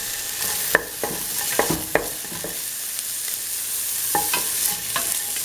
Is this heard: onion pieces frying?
yes